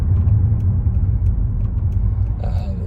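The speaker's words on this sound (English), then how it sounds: "Give her some gas." A 2001 Mercedes E55 AMG engine pulls under throttle while driving, giving a steady low rumble from inside the car with no talk.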